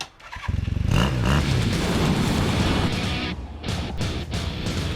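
Motorcycle engine starting and running with no exhaust fitted, a loud, close, raw popping burst at startup settling into a harsh, steady rattling idle with a few revs and dips.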